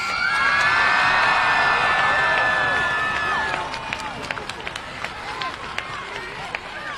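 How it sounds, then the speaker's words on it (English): At a high school Class of 2020 commencement in a stadium, a crowd cheers, whoops and claps for the graduating class, loud at first and then fading to scattered shouts and claps. "how about one more round of applause for this incredible class?"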